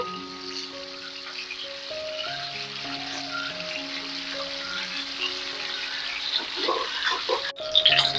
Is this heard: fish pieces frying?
yes